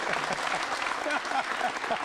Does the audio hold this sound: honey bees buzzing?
no